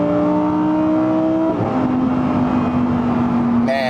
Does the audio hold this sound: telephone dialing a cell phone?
no